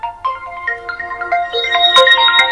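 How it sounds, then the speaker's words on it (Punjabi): A mobile phone ringtone plays a bright, close electronic melody of quick stepping notes that grows busier and louder toward the end. "ਫੋਨ ਆ ਗਿਆ"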